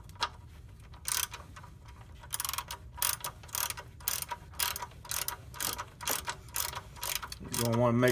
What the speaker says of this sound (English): get your drain plug back in snug